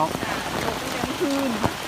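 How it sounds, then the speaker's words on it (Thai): Steady rain falls through the morning in rural Surin, Thailand, a constant wash of patter with faint tonal bits and soft knocks, while a person speaks over it. "บรรยากาศฝนตกตั้งแต่เช้า"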